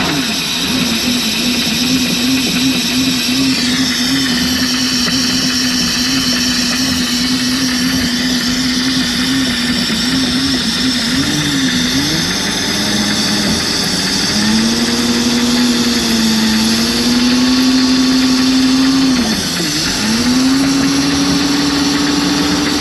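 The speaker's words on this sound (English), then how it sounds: "I'm going to fog the engine with some transmission fluid." A boat engine being winterized runs while fogged with transmission fluid, idling loudly and close with a steady drone that dips and wavers a few times as the revs sag and recover.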